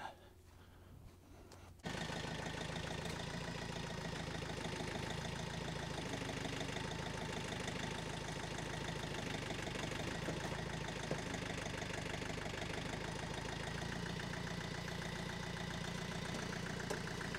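Tractor engine idling during firewood work, a steady mechanical drone with a rhythmic knocking texture that starts abruptly after a quiet opening and then runs evenly and moderately loud to the end.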